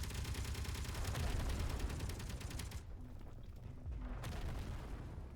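Defensive turrets in the space game Space Engineers fire continuously at incoming meteors, a dense rapid barrage of gunfire that runs throughout with only a brief thinning, no talking.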